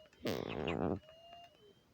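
A single clear meow from a cat in the video game Toca Life, loud and close for under a second, followed by quiet game sound.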